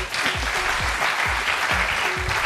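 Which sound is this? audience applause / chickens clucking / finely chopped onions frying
audience applause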